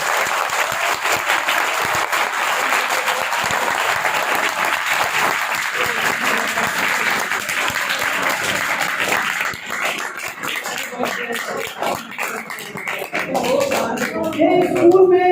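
Schoolchildren give loud, sustained applause at a teacher's farewell ceremony after thirty years of service, dense clapping for about ten seconds that then thins into scattered claps and a few voices.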